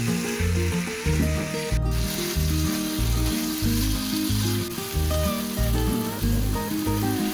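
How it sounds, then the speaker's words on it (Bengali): Crabs frying in curry gravy for Bengali crab curry give a loud, steady close sizzle, with a regular pulsing rhythm from stirring and no talk. "কাঁকড়াগুলো গ্রেভিটার সাথে খুব ভালোভাবে কষিয়ে নেব।"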